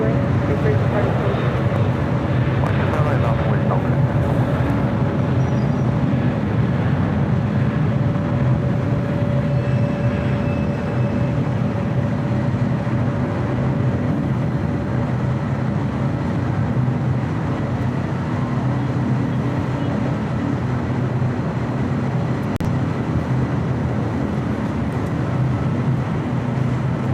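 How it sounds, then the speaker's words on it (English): A Korean Air A380 airliner takes off from LAX bound for Seoul, its engines producing a steady, broad, sustained roar with no clear break throughout. "This is Korean Air Flight 12 taking off to Seoul on the A380."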